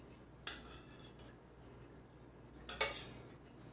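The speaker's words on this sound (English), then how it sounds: "And now I'm going to spoon this paste in." A metal spoon clinks against a glass mason jar while thick homemade tomato paste made from canned tomatoes is scooped in, two distinct close clinks in a quiet kitchen.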